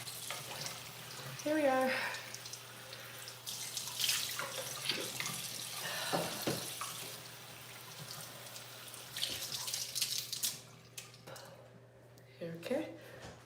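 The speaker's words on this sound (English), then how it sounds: "All right, I'm gonna rinse off again." Tap water runs and splashes into a bathroom sink while a woman rinses her face during a nighttime skincare routine, a steady close trickle with scattered splashes. She speaks briefly near the start and again near the end.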